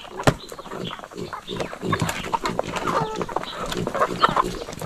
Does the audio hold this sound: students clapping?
no